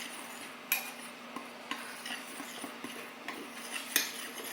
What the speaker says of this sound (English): Mix that together so it can be combined.